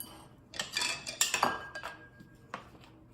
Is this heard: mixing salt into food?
yes